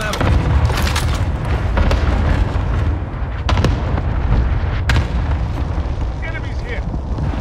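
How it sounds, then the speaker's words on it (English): Cluster strike explosions in the video game Call of Duty Modern Warfare, a multiplayer team deathmatch, with loud repeated booms and blasts rolling continuously through the clip amid dense battle noise. "Enemy cluster strike. Take cover."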